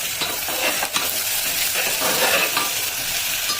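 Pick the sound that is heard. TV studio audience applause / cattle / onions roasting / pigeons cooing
onions roasting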